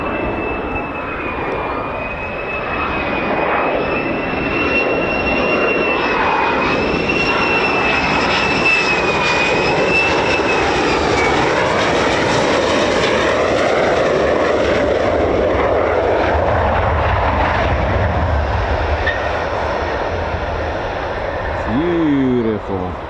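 A US Air Force F-15 or F-35 fighter jet arrives at RAF Lakenheath, a loud continuous roar with a shifting high whine as it passes overhead, and voices are heard beneath it.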